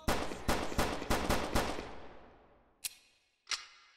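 Pistol gunshots in a Skibidi Toilet horror game: six evenly spaced sharp shots in quick rhythm, followed by two isolated single shots after short pauses, each with a ringing decay.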